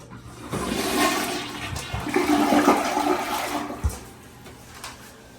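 A household toilet flushes with an automatic blue bowl cleaner tablet in the tank: a loud close rush and swirl of water building, then draining away and trailing off into a quieter refill.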